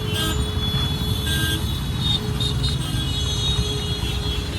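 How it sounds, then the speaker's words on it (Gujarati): Dense road traffic of cars and trucks makes a continuous low engine rumble, with faint horn toots rising now and then in the distance. "તો ગાઈસ જો કેટલો બધો ટ્રાફિક છે."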